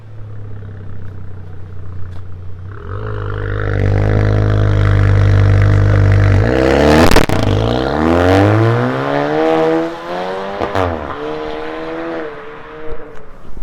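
An Audi A5 with a remote-controlled exhaust and cut rear bumper starts from a low idle, then revs hard in loud, rising surges that peak sharply before falling back and rising again, close by and alone.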